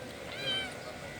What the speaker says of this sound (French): mon chat.